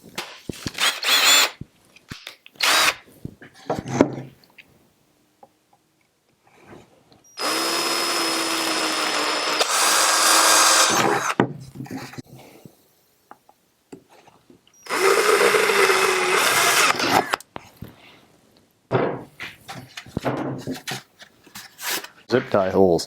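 A power drill with a 1/4-inch bit bores holes through a plastic kayak fishing crate, whining in several sustained, loud bursts with short gaps and clattering handling noises between them.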